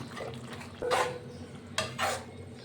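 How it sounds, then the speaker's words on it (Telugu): A spoon stirring curry in a cooking pot, two distinct scraping, sloshing strokes against the metal over a faint steady simmer, close and fairly quiet. "ఇప్పుడు మనం కలుపుకుందాము."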